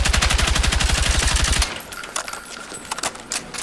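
Rapid automatic fire from an M277 rifle in Battlefield 6, a loud, evenly spaced burst of about twenty shots lasting under two seconds, then fading echoes and scattered distant shots.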